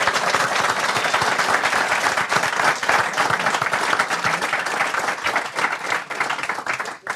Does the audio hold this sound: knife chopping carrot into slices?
no